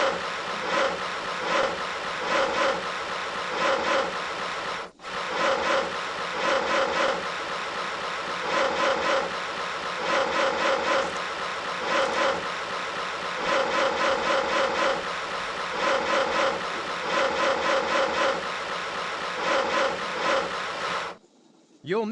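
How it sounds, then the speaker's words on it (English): A sawing sound effect plays in the Tonka Workshop video game as the parts of a rocking horse are cut out, a loud, continuous rhythmic rasp that repeats steadily for about twenty seconds with one brief break. "Use your saw to cut out the parts of the rocking horse."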